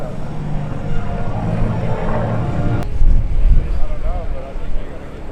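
An F4U Corsair propeller plane drones overhead during an aerobatic airshow display, its engine rumble swelling and fading as it passes, with voices talking over it.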